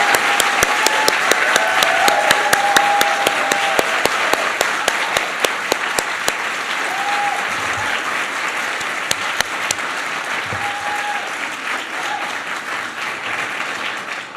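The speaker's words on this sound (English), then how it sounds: "we have to give this woman an incredible round of applause." A large audience gives Michelle Obama a loud, sustained round of applause at an arts and humanities event, dense clapping filling the whole stretch, with occasional cheers and sharper individual claps standing out.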